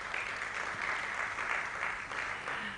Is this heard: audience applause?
yes